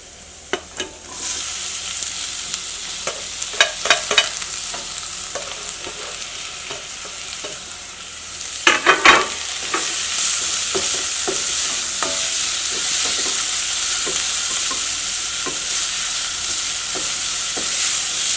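Carrot and onion sauté in a hot pan, a bright continuous sizzle broken by clusters of utensil taps and scrapes as they are stirred, swelling louder in the latter half with no talking.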